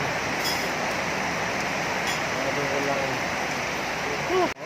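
Steady rain hisses and splashes on a wet surface while riding a motorcycle, a constant wash of noise with faint voices underneath.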